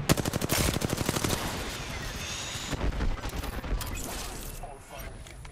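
Rapid automatic fire from a Spitfire light machine gun in a video game, a fast steady rattle of shots that thins out after a few seconds, with players talking over it.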